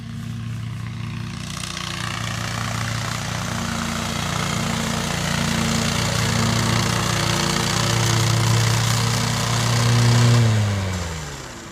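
Lawn mower engine running while cutting long grass, a loud steady mid-pitched drone close by that swells and dips slightly in pitch, peaking near the end before easing off.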